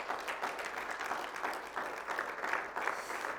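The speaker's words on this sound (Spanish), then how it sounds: "dale fuertes aplausos al Señor" A church congregation applauds during a service, giving steady, moderately distant clapping throughout.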